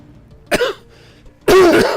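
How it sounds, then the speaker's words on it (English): Two harsh, close coughs break out, a short one and then a louder, longer one about a second later, with near silence around them. "That begins the coughing again."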